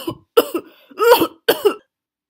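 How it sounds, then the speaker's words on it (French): Several sharp coughs in quick succession, a pair, a longer harsh one, then another pair, close and fairly loud, with short silences between. "Les popos se mettent à tousser, tousser."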